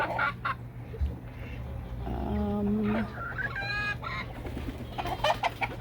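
Chickens and chicks clucking nearby in a farmyard, with a rising cluck sequence in the middle and softer scattered calls before and after.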